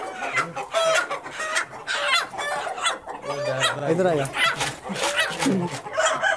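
A Plymouth rooster and hens cluck and squawk in agitation while someone tries to catch them in a breeding setup, with someone talking over the birds throughout, close and busy.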